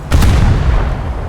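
Naval guns in a video game fire two quick, heavy booms close together, followed by a low rolling rumble that fades.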